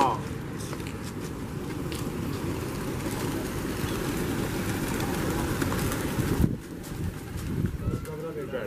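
Flock of racing pigeons during a rooftop pigeon-flying contest in South Asia, a steady outdoor wash of wingbeats and faint cooing with a brief louder rustle near the end, while people talk in the background.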